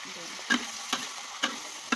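Snow peas and pork being stir-fried over a wood fire: a constant sizzling hiss broken by four evenly spaced scrapes of a utensil against the pan.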